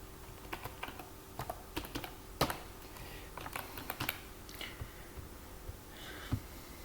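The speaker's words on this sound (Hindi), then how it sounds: "इधर पासवर्ड लिखते हैं" Someone types a password on a computer keyboard in short, irregular bursts of soft clicks. Now and then a key is struck harder. The typing is close but quiet, with no talking.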